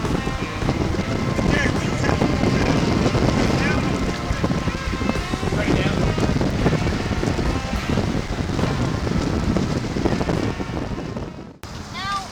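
Strong wind buffets and roars steadily across the microphone on the Mount Pleasant fishing pier, with splashing water and occasional voices mixed in, until it drops briefly near the end.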